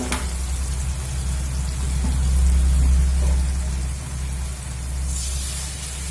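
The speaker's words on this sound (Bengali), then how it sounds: "দিয়ে খুব সুন্দর করে মশলা আমি কষিয়ে নেব" A turmeric-spiced paste fries in a pan with a splash of water added, giving a steady, fairly loud sizzle that swells in the middle and eases toward the end, with no voices.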